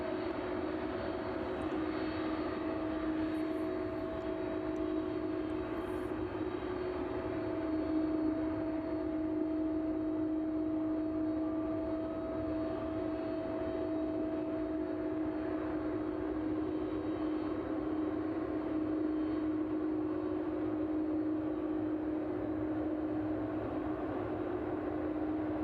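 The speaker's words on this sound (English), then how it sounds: "Maersk 767 just approaching the runway threshold now." A Maersk Boeing 767 cargo jet approaches the runway threshold at East Midlands Airport on a chilly evening, its engines giving a steady, continuous roar with a sustained tonal whine, holding an even level throughout.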